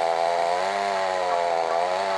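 A chainsaw engine drones steadily and loudly as it cuts trees beside a lake, a continuous buzzing whine that shifts slightly in pitch, with no talk.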